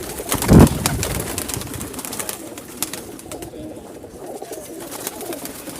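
High-flying pigeons in a breeding setup make a loud close coo near the start, then softer bird sounds and faint background noise follow.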